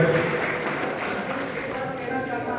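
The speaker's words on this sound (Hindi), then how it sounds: "एक बार जोरदार तालियां प्लीज करके हो" Applause from the audience at a farewell ceremony for a primary school teacher, a dense, steady wash of clapping that carries on evenly throughout under a faint background murmur.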